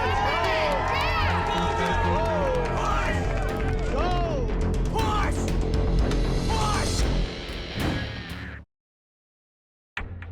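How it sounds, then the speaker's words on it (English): Crowd cheering and clapping for a contestant trying to escape a giant beer can in Dallas, a loud sustained roar over music and shouting, cutting off abruptly before a brief return. "Come on, can we get a cheer?"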